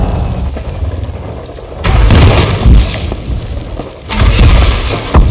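Heavy weapon fire in the space game Elite Dangerous Odyssey destroying a target: two loud booming blasts with rumbling tails, one near the start and another later, over a constant low background drone.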